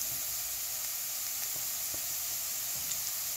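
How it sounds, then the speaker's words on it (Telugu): Onions frying steadily in oil until reddish-brown, a faint continuous sizzle with occasional soft pops and stirring clicks, no talk. "ఇప్పుడు ఈ ఉల్లిపాయలు ఎర్రగా బాగా వేగిపోయాయండి"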